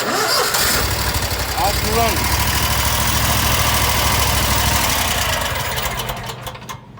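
A Kawasaki engine on a mowing machine cranks and catches at once, then settles into a loud, steady idle before fading near the end; a person says a word over it.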